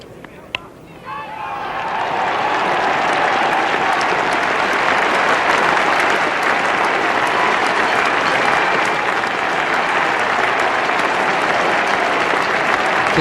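A Lord's crowd at the 1973 West Indies versus England Test applauds a batsman's fifty with loud, sustained clapping that swells quickly and holds steady, with a commentator speaking over it.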